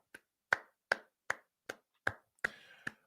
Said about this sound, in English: We're just going to sit back and clap for a second.